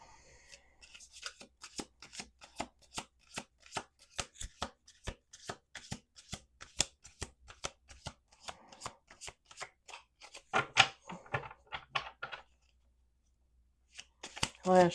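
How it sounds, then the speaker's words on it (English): Playing cards riffled and shuffled in quick, crisp bursts of fluttering clicks, repeated several times with brief pauses, close up. "Two more shuffles."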